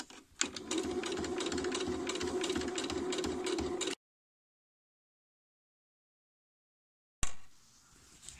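A sewing machine stitching in a concealed zipper runs in a steady fast whir for about four seconds, then stops, leaving silence before a brief rustle of handling.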